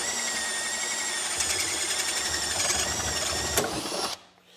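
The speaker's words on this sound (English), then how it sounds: "we're gonna drill a hole right here at the front of the bag" A power drill with a paddle bit bores a 1 5/8 inch hole through the front of a motorcycle amplifier bag, a close, high-pitched whine with grinding that cuts off abruptly near the end.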